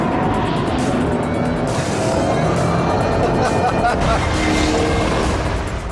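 A Ford Shelby GT500 thrown into corners with oversteer, its engine roaring loud and steady throughout, with tyre and road noise and a faint murmur of voices underneath.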